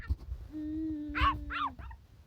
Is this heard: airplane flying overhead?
no